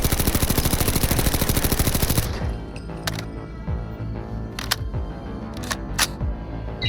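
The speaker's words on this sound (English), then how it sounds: "this is an assault rifle, and I'm going to fire it off now" Assault rifle in Fallout 4 firing a rapid burst of loud, evenly spaced automatic shots, ending abruptly and followed by scattered clicks and faint ambient game sounds.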